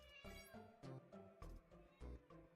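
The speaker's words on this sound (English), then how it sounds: "Did you guys hear that meow?" A cat meows loudly and insistently, about five distinct meows in quick succession, close up and alone.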